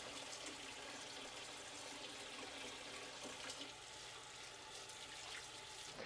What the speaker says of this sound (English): I'm gonna wash my hands, just 1 second.